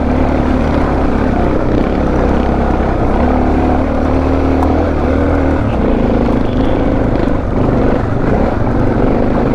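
Suzuki DR650 dual sport motorcycle ridden hard along off-road access roads, its engine roaring loud and constant throughout with wind and rough-ground noise mixed in.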